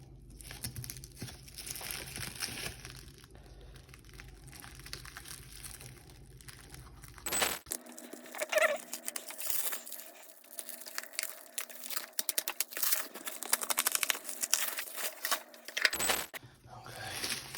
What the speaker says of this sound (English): now we have a metric ton of plastic wrap. Now I don't want to damage what's inside, so I'm trying to be careful here.